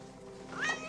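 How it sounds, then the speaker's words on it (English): A single short cat meow rising in pitch, heard in a scene from the 1979 film Alien over a low background hum. "At least the cat made it."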